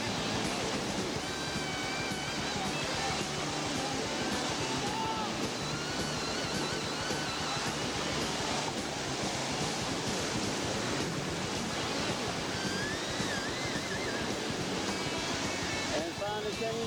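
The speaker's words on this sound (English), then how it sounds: "Out of control whitewater here." Whitewater rapids on the New River surge loudly during a rafting trip, a continuous heavy roar of churning water with wind buffeting the microphone and faint voices mixed in.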